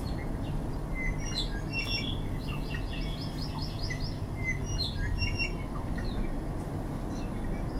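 Several Hawaiian forest birds chirp and trill in a quiet forest, with short, high calls scattered over a steady low background hum.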